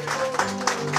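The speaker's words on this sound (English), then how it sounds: "Can we clap our hands for Jesus?" A congregation at a funeral service claps in a steady rhythm, a quick run of evenly spaced claps sounding over a sustained musical tone, fairly close and clear.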